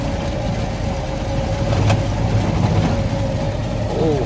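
A car engine on a rural field track drones steadily at medium distance, its rumble growing slightly louder as it draws nearer, with no talking.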